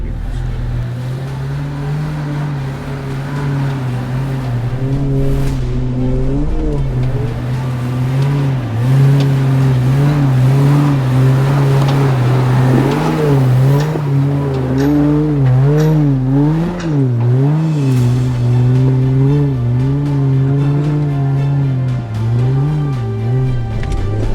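A 4x4 engine labours up a very steep off-road hill track, revving and surging continuously with rising and falling pitch, loud and close throughout, with no talking.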